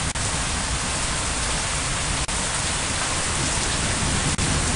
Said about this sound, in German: Hören Sie, es regnet, es regnet, es regnet und manchmal donnert das auch.